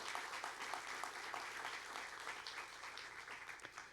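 An audience at a film Q&A applauds director Alice Ekman after a screening of Mathilde et Rosette: dense, steady clapping from many hands filling the hall, with no one talking over it.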